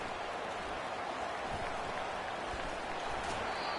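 A football stadium crowd at South Carolina vs Missouri roars in response to a punt return, a steady, distant wash of cheering and clapping that holds without a break.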